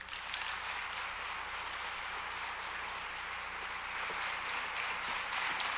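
Steady, dense applause from an audience at a community gathering, a continuous wash of many hands clapping at moderate distance with no voices on top, holding evenly throughout.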